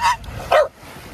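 A dog on a stand up paddle board on the water gives two quick, close yipping barks, loud and high-pitched, with a brief pause between them.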